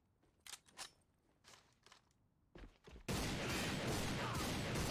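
Sniper rifle fire in the shooter game AVA Global: a few sharp shots ring out early, then a dense, loud burst of sustained fire takes over the second half.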